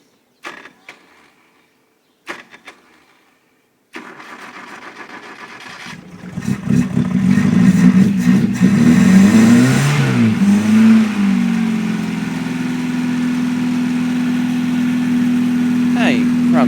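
A Toyota KE30 Corolla engine, unstarted for 18 years, cranks in a few short bursts, then catches and revs up loudly before settling into a steady, fairly smooth idle, with people talking over it.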